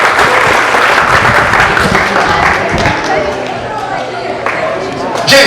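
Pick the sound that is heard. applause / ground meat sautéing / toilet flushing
applause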